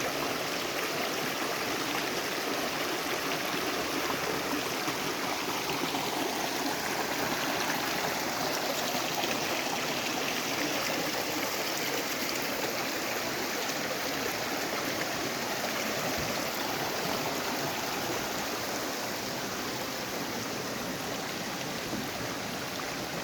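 Stream water flowing steadily through a forest park, a continuous broad rushing and gurgling wash that stays at an even level throughout, with no voices.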